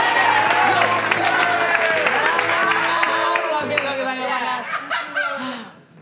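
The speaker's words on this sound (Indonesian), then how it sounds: "Tapi boleh minta tepuk tangan dulu yuk." An audience applauds at a comedy stand-up show, a loud, full round of clapping mixed with chuckles and laughter. A voice or music-like tones run underneath before the sound fades out at the end.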